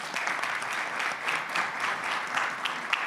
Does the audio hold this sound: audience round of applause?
yes